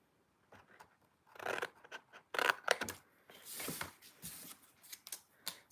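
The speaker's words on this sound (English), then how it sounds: "I'm going to use my paper snips because that's what I have here." Paper snips cut off a paper tab during card-making, giving several close, crisp snipping and rustling bursts of paper with short pauses between them.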